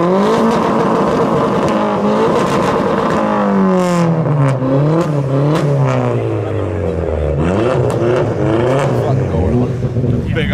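A big car's engine revs repeatedly at a winter cruise night in Llanelli, loud and close, its pitch rising and falling in waves over steady crowd noise.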